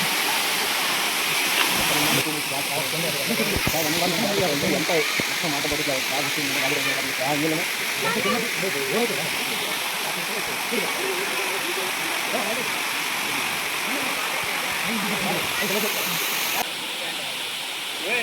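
The Bheemudu Padam waterfall roars steadily in a loud, constant wash of rushing water, with indistinct voices murmuring beneath it for much of the time.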